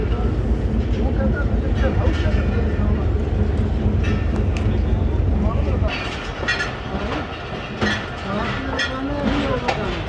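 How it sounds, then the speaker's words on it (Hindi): The Jaffar Express passenger train pulls out of Rawalpindi on a foggy winter day with a heavy, continuous rumble and rail clatter. The low drone eases partway through, and voices can be heard over it. "चलें जी, ट्रेन हमारी मूव हो रही है रावलपिंडी से जी"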